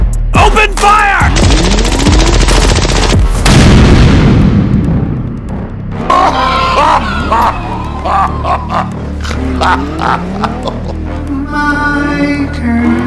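Gunfire and booming blasts erupt in BeamNG.drive, a loud dense barrage that fades into scattered shots and impacts, with excited voices shouting over the chaos.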